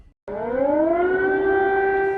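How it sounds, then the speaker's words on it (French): Civil defense air raid warning siren sounding over Kyiv, Ukraine, at dawn: a loud, steady wail that rises in pitch after a brief silence and then holds at a sustained tone, heard alone without talk. "Les habitants de la capitale ukrainienne se sont réveillés au bruit des sirènes d'alerte aérienne."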